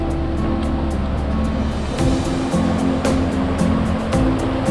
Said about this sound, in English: Look at this, the waterfalls over here.